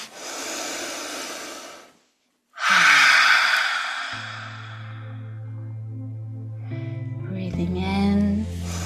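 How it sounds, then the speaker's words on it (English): A guided breathwork exhale: a loud, breathy open-mouthed "ha" release follows a slow nasal inhale, close and alone, ending over a soft background music bed. "breathe in through the nose. And then open the mouth nice and wide. With a bit of a ha sound on the exhale."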